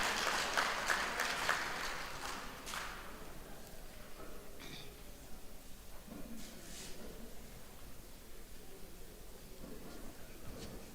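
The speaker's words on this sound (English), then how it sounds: "A big round of applause for SACE." Audience applause at an education awards ceremony, loudest at the start and then settling into sustained, fainter clapping that carries on to the end.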